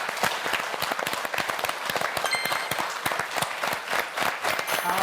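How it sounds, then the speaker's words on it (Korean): A live lecture audience claps together, the scattered hand claps gradually locking into a shared, steady beat, close and dense over a continuous wash of applause. "다른 분들의 박수의 박자에 맞춰서 치시려고 노력하시면 돼요"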